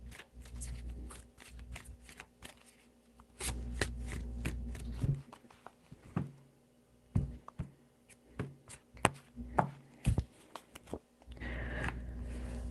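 Tarot cards are shuffled by hand in a run of crisp riffles and flicks, steady at first and then breaking into separate sharp taps and slaps, close and distinct with no talking over them.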